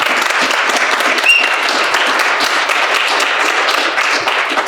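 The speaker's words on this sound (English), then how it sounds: "Clap it up for Cannon Hotep." Loud, sustained applause from a crowd, steady clapping filling the whole stretch with no speech over it.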